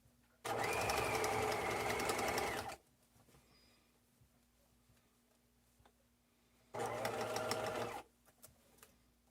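A sewing machine stitches the seams of a satchel in two bursts, a rapid steady mechanical whir of about two seconds, a pause with faint handling, then a second shorter run, heard close.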